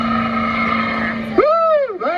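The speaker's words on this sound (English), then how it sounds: "That truck sounds good" A pulling truck at the Carp Fair truck and tractor pull, its engine holding a steady roar before revving hard in rising and falling sweeps, loud and close, with talk in the background.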